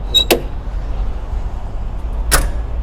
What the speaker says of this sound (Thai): ปิดประตูนะครับ ก็กดสลักลง